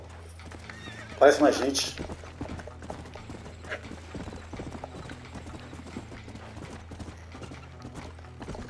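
A horse in Red Dead Redemption on PlayStation 5 neighs loudly once, then hooves clip-clop steadily at a walking pace while someone speaks over it.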